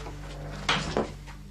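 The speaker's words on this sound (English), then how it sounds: "Suddenly, a door closes behind him." A door closing in a supposedly haunted setting, two muffled close knocks of wood a fraction of a second apart over low background hum, with no voices.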